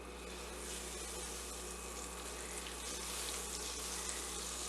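Butter sizzles and fries steadily in a hot pan while chicken piccata is being prepared, a continuous close hiss with no speech.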